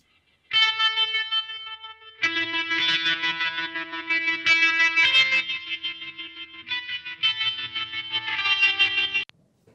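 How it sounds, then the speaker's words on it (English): An electric guitar plays sustained, chiming chords and notes, first dry and then with a Softube delay plugin engaged, leaving repeating echoes and a washy tail. The tone is bright and effected, and there is no talking. "I'm gonna go ahead and bypass this delay and just see what the difference was before and after adding it"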